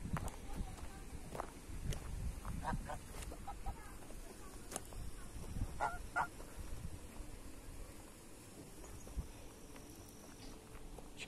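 Geese call with scattered short honks and clucking cries at a rural traditional farmstead, mid-distance, mixed with footsteps and people talking.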